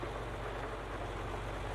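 Steady rain falling in the video game Farming Simulator 22, on the Riverview Farms map, forming a continuous even hiss with a low rumble beneath, with no talk.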